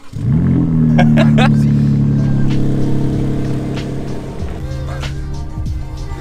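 A 2021 BMW M4 Competition starts with a sharp loud engine flare and then settles into a deep, steady rumble as it pulls away, close and dominant throughout.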